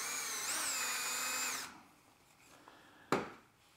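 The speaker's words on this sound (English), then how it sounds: "Got my 3 millimeters, drill my hole." A power drill with a 3 millimeter bit bores a hole for a Blum undermount drawer slide in melamine, a high whine for about one and a half seconds, then quiet before a sharp knock.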